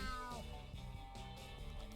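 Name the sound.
cat meowing in video game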